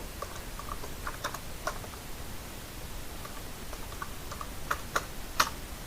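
Keys on a computer keyboard are tapped while typing in MS Word, giving sparse, light clicks scattered over a soft steady hiss and growing a little sharper toward the end.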